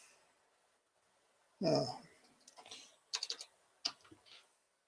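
Keys on a computer keyboard are tapped close and faintly in short, irregular clusters of clicks, with a louder breathy burst near the start and quiet between strokes.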